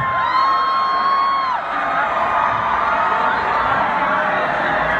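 A packed concert crowd at a show at House of Blues in Anaheim cheers, whoops and shouts continuously, loud and dense throughout, with a brief stage voice heard over the roar early on.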